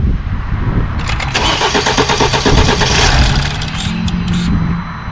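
A 2012-2016 BMW F30 328i cranks and fires up during valve cover and gasket work, a loud close starter churn followed by the engine catching and revving unevenly before settling.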